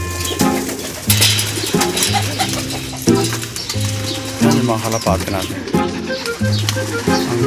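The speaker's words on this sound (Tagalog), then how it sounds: "Yan yung mga kalapati natin." Pigeons on a farm in Riyadh cooing in repeated rounded phrases close by, layered over constant background chatter and clatter, with a voice talking through it.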